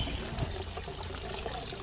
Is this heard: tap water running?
yes